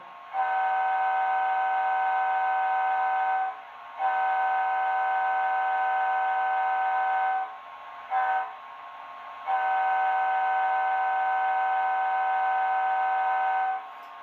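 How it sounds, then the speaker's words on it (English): Steady, tonal electronic horn blasts from an HO-scale Walthers Budd Metroliner model train sound decoder, a long one, a brief short toot, then another long blast, clean and loud with silence between. "So there's the short and long air horns, F2, regular air horn, F3, short air horn"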